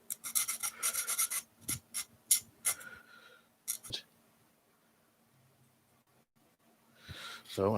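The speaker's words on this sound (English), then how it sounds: "take the sander and just bevel these edges a little bit" A sander bevels the edges of a model build in quick rasping strokes, several short bursts up close, then quiet, then a final brief pass.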